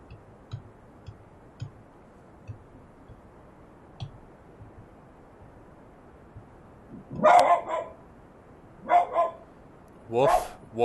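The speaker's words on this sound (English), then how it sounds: "Your dog is so angry." A dog barks in three separate bursts near the end, fairly loud and a little way off, after a stretch of faint ticking.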